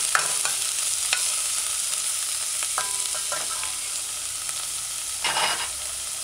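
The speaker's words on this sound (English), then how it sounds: "add your diced scallion. And remember now, you can use chive instead. And you can use any onion. Stir it in, allow it to saute" Diced scallion sizzles as it sautes in a pan, a continuous close frying hiss with a few faint utensil taps and a short stirring burst near the end, no one speaking.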